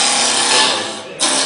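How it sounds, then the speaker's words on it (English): A wood lathe spins a peppermill blank at 2100 RPM, giving a steady loud whirring hum with a brief dip in the sound before it resumes. "So we've got this on the middle setting. We're going at 2100 RPM."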